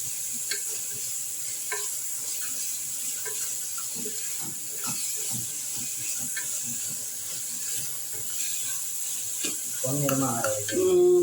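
Onions fry in cold-pressed groundnut oil in a pan, a steady close sizzle and hiss with occasional stirring scrapes; a voice comes in briefly near the end.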